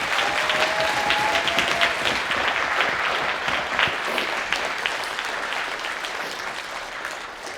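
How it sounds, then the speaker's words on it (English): A crowd at a graduation celebration gives a sustained round of applause, dense clapping that holds steady and then slowly thins over several seconds, with no talk over it. "So again, can we please give a round of applause?"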